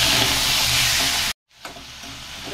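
Curry leaves and a handful of coriander sauté in oil in a pan with a loud, dense, close sizzle that cuts off abruptly, then returns much quieter and muffled, as if under a lid.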